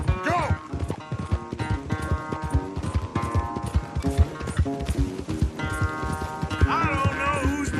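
A horse gallops in Red Dead Redemption 2, its rapid clip-clop hoofbeats running steadily throughout under a game music score, with a brief whinny near the end.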